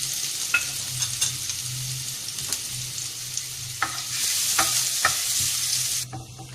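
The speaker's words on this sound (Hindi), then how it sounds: "अब हम लहसुन डाल रहे हैं, चॉप हुए हुए लहसुन डाल रहे हैं इसमें हम।" Chopped garlic fries in about three tablespoons of oil in a pan, a steady close sizzle broken by occasional clicks of stirring, with the hiss swelling louder near the end.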